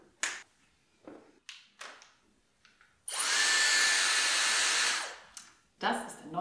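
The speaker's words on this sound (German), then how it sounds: "Das ist der neue Dyson Airstrate." A Dyson Airstrait hair styler blows air in a steady, loud rush for about two seconds, framed by short taps and clicks of handling before and after.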